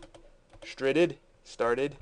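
Typing on a computer keyboard while building a simple photo page: a few quick, light key clicks between two short spoken words.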